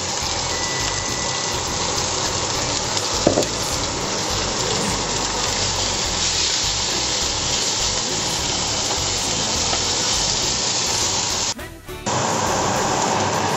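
Plantain frying in oil on a flat griddle gives a steady, loud, hissing sizzle that runs continuously, with one brief dip near the end.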